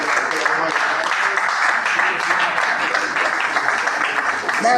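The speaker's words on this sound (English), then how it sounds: "Please, another round of applause for" Loud, sustained applause from a crowd, continuous clapping with a few voices mixed in, filling the whole stretch.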